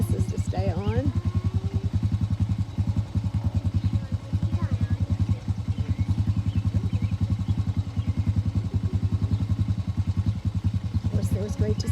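A four-wheeler ATV engine runs steadily at a fairly close distance, with a constant throbbing, pulsing note from start to finish while people talk faintly in the background.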